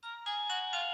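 A DAPENG T2000 Chinese mobile phone from around 2009 plays a ringtone, a loud electronic melody of sustained synthesized tones stepping through several pitches, close and alone.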